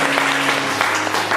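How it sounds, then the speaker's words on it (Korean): A church congregation at a Sunday service claps together, a dense continuous patter of applause filling the room, loud and close, with a faint steady hum beneath. "박수 한 번 더 하십시다."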